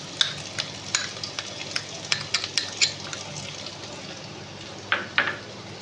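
A spoon stirs spices, ginger-cumin paste and cashew paste, into melted tomato in a hot pan for a paneer dish. The soft sizzle is broken by a series of sharp scraping taps, close by.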